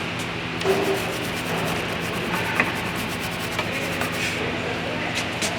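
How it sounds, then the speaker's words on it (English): A small metal brush scrubs the brake hardware bracket on a 2011 Ford Fusion SE rear brake, giving a steady, close, raspy rubbing that continues without a break for several seconds. "small metal brush and then brush it right here where the hardware sits"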